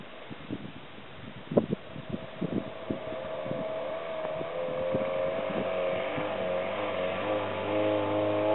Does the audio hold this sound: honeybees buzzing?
no